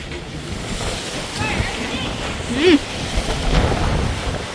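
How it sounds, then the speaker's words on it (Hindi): A strong windstorm roars outdoors in a steady, gusty rush with buffeting on the microphone. A voice is heard briefly through the wind. "बहुत तेज है आंधी।"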